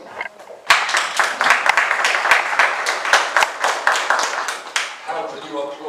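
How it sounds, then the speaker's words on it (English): Live audience applause at a televised discussion show: dense clapping bursts in loudly after a brief lull, holds steady for about four seconds, then fades as a voice begins speaking. "How can you applaud such a gloomy picture?"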